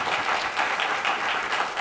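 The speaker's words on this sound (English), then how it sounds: "Please give him another round of applause." Loud, dense applause from a conference audience at a Berlin event, a continuous roar of clapping throughout the short moment with no talking.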